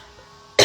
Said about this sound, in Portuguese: a gente perdoa essa tosse